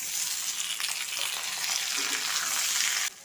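Loud, dense sizzle of boiled potatoes frying in a hot pan, continuous throughout and cutting off abruptly just before the end.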